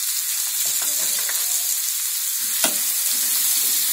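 Pumpkin and potato with cumin and turmeric fry over a medium flame, a steady bright sizzle with spatula scrapes and one sharper clack against the pan partway through. No voice is heard.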